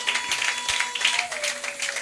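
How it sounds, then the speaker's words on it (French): Brief burst of congregation applause and acclamation for the Lord at a church gathering, fairly close and lively, with voices mixed in. "Est-ce qu'il y a moyen de répondre cela par une acclamation pour le Seigneur?"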